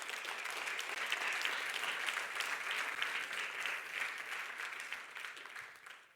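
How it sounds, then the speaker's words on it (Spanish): A church congregation claps in loud, dense applause during a sermon, a continuous crisp wash of many hands from a full room that holds steady and then gradually fades near the end. "Démosle un fuerte aplauso al Señor Jesucristo."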